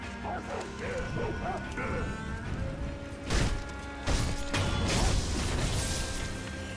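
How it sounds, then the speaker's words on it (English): Dog in the game Sekiro barking, opening with whiny yips and whimpers, then a few sharp, loud barks over busy in-game ambience and music. "Oh, the dog's in the house."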